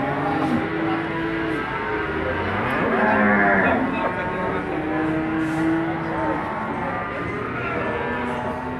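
Cattle, including Simmental and Limousin-cross beef calves, moo loudly and repeatedly at a busy morning livestock market, long lowing calls overlapping amid a constant crowd murmur and background chatter.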